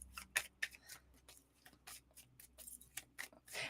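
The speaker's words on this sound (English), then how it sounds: "I'm just shuffling the cards while I'm talking." Tarot cards being shuffled by hand make faint, irregular riffling and snapping bursts with soft pauses between them.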